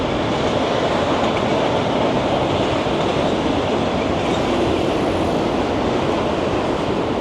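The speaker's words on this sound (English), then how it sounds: "There's that beautiful train." A continuous loud rumbling roar of a train rolling past, steady and broadband throughout with no pauses, heard from an electric bike climbing a steep incline.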